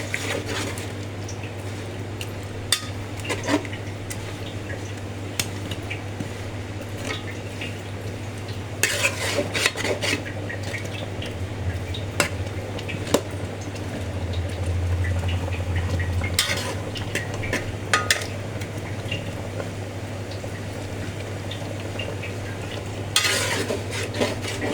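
Boiled lentils being stirred with fish heads in a pot, a low bubbling sizzle under repeated scrapes and clinks of a metal spoon against the pot, with a steady low hum throughout.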